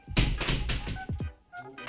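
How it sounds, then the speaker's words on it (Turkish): A door is shut in a village house: a thudding knock with rattling noise, a brief squeaky creak, then a few softer knocks, close by. "Hadi örtelim kapıyı."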